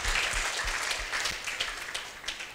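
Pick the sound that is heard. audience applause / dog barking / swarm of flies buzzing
audience applause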